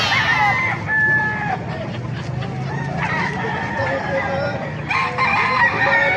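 White kelso gamecock roosters crow repeatedly at a poultry market in Calumpit, Bulacan, with several overlapping calls near and farther off, some clucking, and market chatter and talk beneath.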